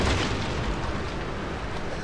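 Cannon fire explodes in a naval battle in the video game Total War Shogun 2 Fall of the Samurai, as a dense continuous rumble of blasts with no distinct gaps.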